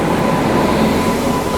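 A train is heard at a railway station platform as a steady, loud, close rumbling roar of rolling wheels and engine noise, continuous and even without distinct clicks.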